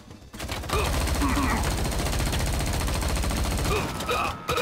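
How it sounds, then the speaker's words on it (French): Sustained automatic gunfire rattles from the left in the video game XIII Remake, a loud continuous stream of rapid shots over busy game sound that stops abruptly near the end. "Et ça me tire de la gauche."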